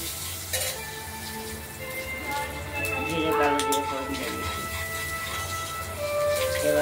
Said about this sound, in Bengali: এবার আমরা ফোড়ন দেবো জিরে, কালো জিরে